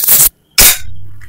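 An E&C OPS MRP Hi-Capa gas blowback airsoft pistol fires two sharp, loud cracks about a quarter second apart, each followed by a brief hiss as the slide cycles, with no talking.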